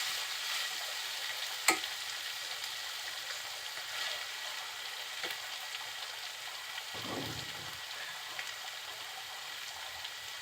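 A covered pan of vegetable stir-fry cooks with a steady, fairly quiet sizzle and hiss, broken by a sharp clink near the start and a brief stirring rustle later on, with no talking.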